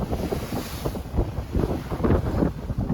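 A sailboat pushes through choppy sea in strong wind, with steady gusts buffeting the microphone over the continuous rush and slap of water against the hull, near and loud, and no talking.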